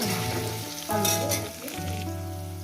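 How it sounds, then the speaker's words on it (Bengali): Potatoes frying in a pan with salt for a Bengali chorchori, a close, steady sizzle with brief stirring bursts, alone without talk. "আলুগুলো ভেজে নেবো"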